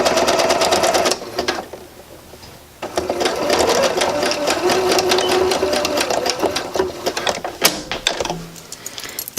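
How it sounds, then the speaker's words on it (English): A sewing machine top stitches a seam on a refashioned sweater capelet, running in close, steady rapid stitching bursts with one brief pause and a couple of clicks near the end. "now I am going to, again, just go ahead and top stitch down that seam"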